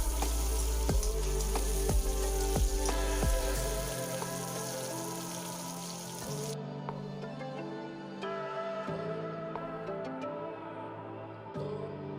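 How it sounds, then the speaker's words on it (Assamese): Onions and spices fry in a pan with a soft, steady sizzle broken by scattered crackles and pops, heard alone with a low hum beneath. "মই ইয়াতে পিঁয়াজখিনি ভাজি লৈছোঁ আৰু লগতে মই অন্য মছলাখিনিও"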